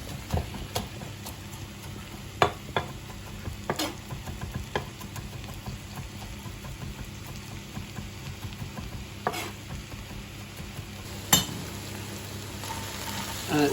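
Aubergine, chard and mushrooms sweating down in a pan give off a low, steady sizzle, broken by scattered clinks and scrapes of a utensil stirring, close up and without talk.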